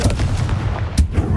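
A Confringo blasting spell in Hogwarts Legacy, a loud, dense rumbling burst with a sharp crack near the end, close and heavy, with no talking.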